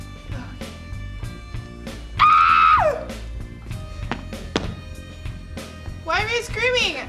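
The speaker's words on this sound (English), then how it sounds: "Why are you screaming?" A person lets out a loud, high-pitched scream lasting under a second in a room where the lights have been turned off, surrounded by quieter voices and background sound.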